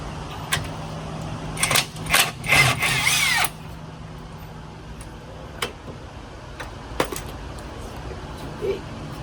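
A power tool spins wheel fasteners off a rusty 1983 Toyota Corolla KE70 in several loud, close, whirring bursts, followed by scattered clicks and light ticking.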